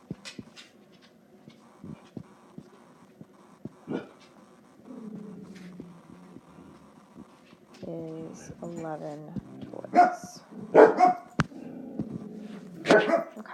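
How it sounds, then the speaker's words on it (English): Dogs barking and whimpering indoors in the background under a person speaking, with short yips and a few louder barks near the end. "You can hear my dogs in the background."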